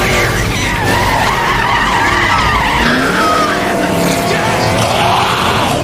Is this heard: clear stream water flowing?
no